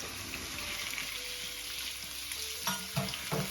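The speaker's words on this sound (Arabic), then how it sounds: "غادي نضيفوا الكالامار." Calamari sizzles steadily in a hot pan with onion and pepper, a moderate close crackle with some brief clatter of stirring near the end.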